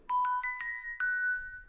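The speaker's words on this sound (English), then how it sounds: "Glockenspiel." Samsung notification melody struck on a glockenspiel: five clear, bell-like metal bar notes in a quick rising run, the last ringing out long, close and alone.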